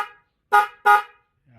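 Two short, loud horn honks from an upgraded electric bike horn in quick succession, bright and buzzy, with brief silence before and after.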